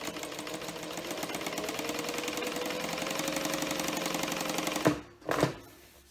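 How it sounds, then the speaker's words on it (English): A sewing machine top stitching the sides of fabric, a steady fast rattling hum running for several seconds before stopping, followed by a couple of brief handling clicks. "I like to go ahead and do at least one of the top stitching sides first"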